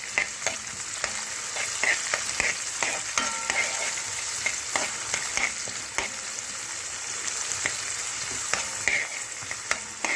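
Sliced large onion sizzling in a frying pan for ivy gourd fries: a steady, close hiss of frying, broken by frequent sharp clicks and scrapes of stirring, with no talking.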